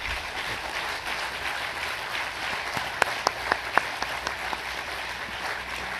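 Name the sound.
applause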